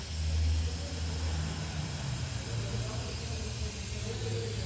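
Aerosol spray hissing steadily near the engine's leaking oil seal between transmission and engine, close and continuous over a low rumbling background, with faint talk.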